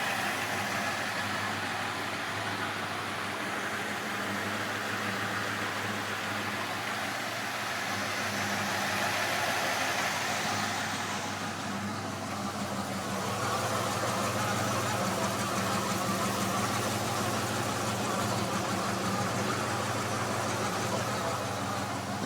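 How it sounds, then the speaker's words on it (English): A 1981 Ford F150 truck idling steadily, with a continuous low engine hum and a faint whir from the transmission running throughout, close and even with no talk. "that whirring sound coming out of the tranny is there in first, neutral, or park as well, and reverse"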